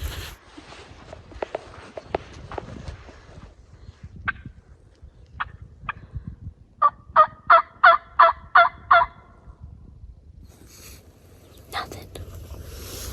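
Outdoors in Colorado, a wild turkey tom gobbles in a loud rapid series of rattling bursts, with single distant gobbles before it, quiet whispering and footsteps in the brush.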